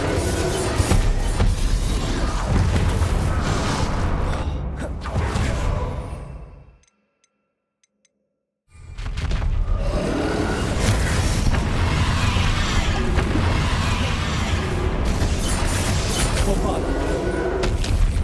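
Confringo spell blasts erupt during Hogwarts Legacy combat, loud booming bursts in dense layered game noise that cut out to near silence for about two seconds midway, then resume just as heavily.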